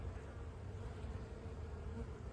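Honeybees at an opened hive, frames being pushed back together, make a dense, continuous drone of buzzing wings, close and steady throughout with no voices.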